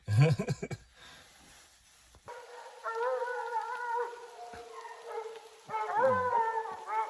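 Several hunting dogs howl and bay at a treed mountain lion in drawn-out, overlapping cries from a middle distance, after a brief burst of noise at the start.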